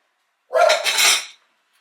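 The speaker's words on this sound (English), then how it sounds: "cracking another egg" A single egg cracked against a flat surface and dropped into a ramekin: one short, close clack with a brief wet crackle trailing off, alone in silence.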